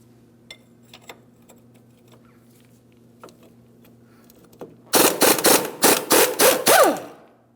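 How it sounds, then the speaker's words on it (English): A wrench loosens a wheel hub mounting nut on a 2003-2008 Toyota Matrix during a front wheel bearing and hub replacement, after a few faint clicks. It gives a loud, close run of about eight sharp ratcheting bursts in quick rhythm. "I'm going to hold my bolt head and loosen my mounting nut"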